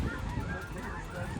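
A flock of snow geese honking at a goose hunt in Dexter, Missouri, a dense overlapping chorus of calls heard from a distance, steady and layered over open-air background noise.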